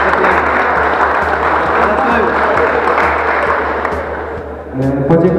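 Crowd applauding a sponsor at a village volleyball tournament ceremony; loud, dense, sustained clapping that dips briefly near the end before swelling again, with a voice emerging over it at the close.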